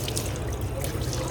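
Tap water runs gently over stainless steel butcher's gloves during washing, a soft continuous trickle and splash, close and steady throughout, with no talking.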